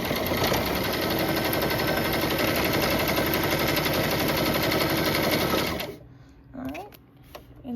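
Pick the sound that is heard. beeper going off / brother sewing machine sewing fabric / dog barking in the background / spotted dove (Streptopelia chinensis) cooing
brother sewing machine sewing fabric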